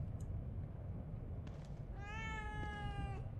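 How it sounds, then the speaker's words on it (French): A single clear, drawn-out cat meow in the video game The Evil Within 2, close and fairly quiet over a soft ambient hum, with no voices. "Oh, il y a un chat."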